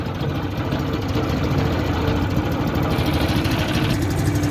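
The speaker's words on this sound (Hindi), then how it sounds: "अब ये इंजन स्टार्ट हो गया, ड्राइवर हमारा बैठ गया है गाड़ी चलाने के लिए" A vehicle engine idling steadily after starting, about to set off near the Indus River by the Kalabagh salt mines, a loud continuous low rumble with mechanical vibration throughout and no talk.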